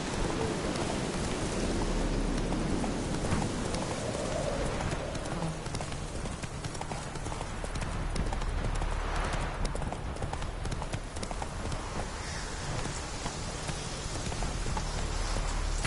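A horse gallops with steady clip-clop hoofbeats in The Witcher 3, the hooves running continuously under a dense wash of rain, with faint thunder-like rumble in the background.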